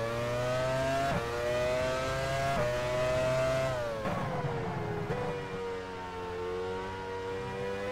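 A loud, close open-wheel race car engine from the F1 Challenge 99-02 video game, in a 1999 Canadian Grand Prix race, screams at high revs with pitch drops at each gear shift and no talk.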